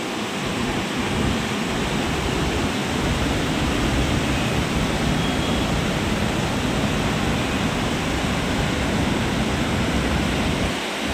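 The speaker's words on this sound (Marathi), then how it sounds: "जबरदस्त पूर आहे" Roaring floodwater of a river in full spate, seen from high ground near a chamber and bridge pillars; a dense, continuous broadband rush that stays loud and steady throughout with no voices.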